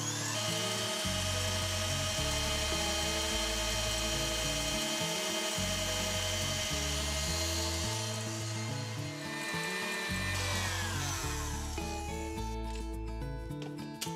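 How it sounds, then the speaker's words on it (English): Electric mixer whipping Italian meringue as hot sugar syrup is poured over egg whites, a loud steady motor whir with rhythmic pitch changes, close and continuous, easing off near the end. "So excuse the noise, I'm gonna have to put the mixer back on,"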